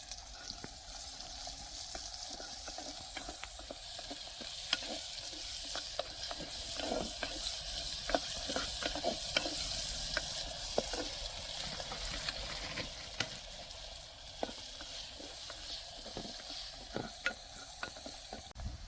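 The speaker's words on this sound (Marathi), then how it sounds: "त्याच्यामध्ये हा चिरलेला कांदा टाकूया. कांदा पण चांगला तांबूस कलरवर भाजून द्यायचा" Chopped onion frying in hot oil over a wood-fired farm stove, a steady dense sizzle with frequent scraping stirs of the spoon throughout, close and continuous with no talking.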